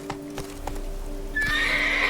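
Roach, the horse in The Witcher 3's Blood and Wine expansion, gallops with a run of rhythmic hoof clops, then lets out a loud, drawn-out neigh over the hoofbeats.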